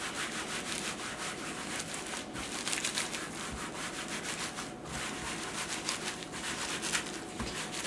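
Hands rubbing wet wool felt in a wet felting process, producing a soft, steady swishing friction with gentle rhythmic strokes, close and quiet, with no talking.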